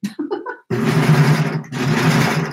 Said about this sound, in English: now just serging the elastic on and have to stretch it